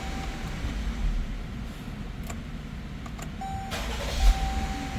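A 2017 Dodge Durango engine idles after a blown 150-amp fuse is replaced, giving a steady low rumble with a faint electronic chime tone over it.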